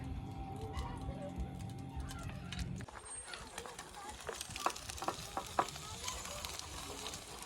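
An egg fries in an oiled frying pan, with a steady close sizzle and scattered crackling pops; a low droning hum sits under the first few seconds before it cuts out.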